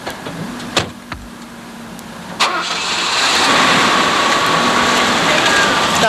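A stately Mercedes luxury car starts up: a few clicks and clunks, then the engine catches and settles into a steady close idle hum with a rushing, hissy background, and no talk over it.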